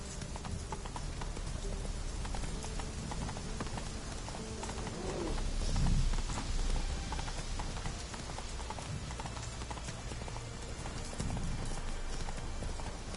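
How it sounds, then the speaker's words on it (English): Hoofbeats of a horse galloping in The Witcher 3, a steady fast clip-clop rhythm that runs throughout at moderate level, with faint bird calls and ambient wind in the background. "Whoa there, Roach."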